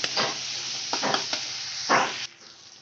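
Tomatoes with salt sautéing in a pan for a Bengali chhana and potato tadka, a steady close sizzle broken by several scraping stirs of a spatula before the frying quiets toward the end.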